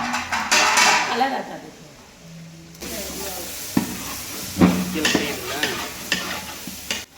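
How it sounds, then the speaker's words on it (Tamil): Ginger garlic paste for chicken biryani sizzles in a pan as a spoon stirs and scrapes against the metal, with a soft hiss, sharper clinks and scraping bursts, and a voice talking at times. "இஞ்சி பூண்டு பேஸ்ட்டை இப்போ சேர்க்க போகிறோம்"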